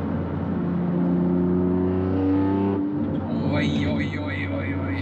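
BMW M3 engine revving with its exhaust flap partly open, a loud close rising roar that drops off near the end with popping burble, a voice briefly audible alongside.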